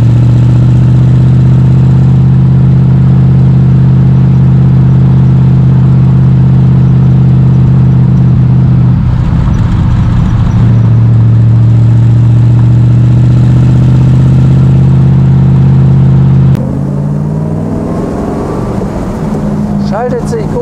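The V8 of a 1965 Iso Grifo 365 GL prototype drones loud and steady while driving, a deep continuous engine hum with a brief rise in revs near the end, under someone talking.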